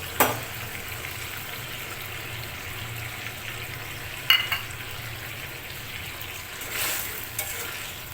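Okra frying with mustard paste in a pan, a low steady sizzle broken by a few sharp scrapes and knocks of a spoon while being stirred.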